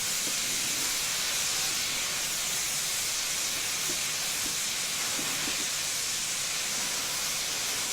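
Locomotive water tap washing the track in Train Simulator 2016, a steady loud hissing spray that runs unbroken through the whole clip, with faint clanks underneath.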